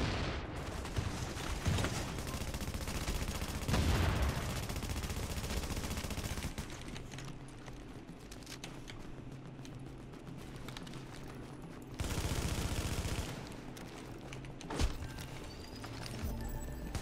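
Rapid bursts of gunfire from The Division's Dark Zone PvP, loud dense volleys swelling around the start, middle and twelve-second mark, with steadier mid-level firing and clatter between them.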